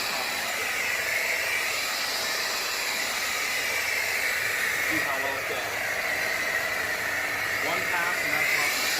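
A Hoover Floormate Jet hard floor cleaner runs over a coffee stain on a hard floor, making a steady hissing, whooshing motor drone throughout while a person talks over it.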